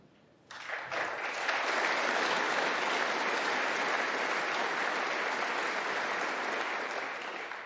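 A snooker crowd at the Masters bursts into sustained applause that starts abruptly, holds steady and full for several seconds, then fades slightly toward the end.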